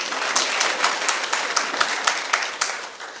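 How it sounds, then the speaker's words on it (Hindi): Audience applause for a speaker at a seminar, a short burst of many hands clapping with distinct individual claps standing out, moderately loud and close. "सर के लिए तालियां बजा दो यार।"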